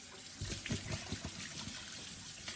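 Hot water running from a tap during washing, a faint, steady trickle and splash with small irregular spatters throughout.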